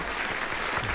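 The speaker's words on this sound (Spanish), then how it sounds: "Y ahora no dejen de aplaudir porque llega Ramón Sardá" Comedy show audience applauding a comedian, a brief burst of dense, even clapping from a crowd.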